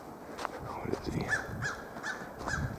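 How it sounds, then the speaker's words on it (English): A noisy blackbird calling from a tree on a nature walk at Sportsmans Island in Alpena, Michigan, giving several short, harsh, repeated calls at fairly close range over light outdoor background. "Friggin' blackbird."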